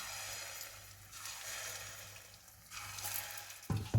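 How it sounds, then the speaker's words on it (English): Potato and chicken cutlets shallow-fry in oil in a pan, a steady soft sizzle and crackle that swells slightly toward the end with a brief clatter, close and quiet without talk. "You can just simply shallow fry them in a pan with some oil."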